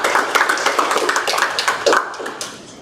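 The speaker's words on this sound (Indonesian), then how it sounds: "Boleh diberikan tepuk tangan Bapak Ibu." Audience at a vocational school orientation clapping, a brisk patter of hands in a hall that fades out toward the end.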